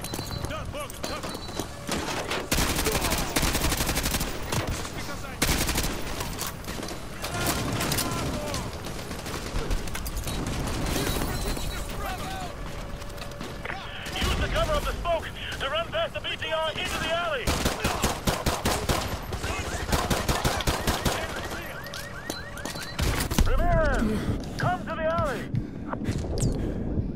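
Enemy gunfire in the video game Modern Warfare 2, bursts of automatic fire and scattered shots crackling repeatedly through a busy battle mix, with a voice talking over it.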